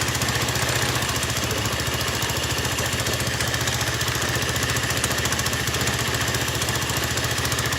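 A Chinese quad engine runs steadily with the clutch pulled in, a loud, continuous mechanical drone with a fast rhythmic clatter throughout.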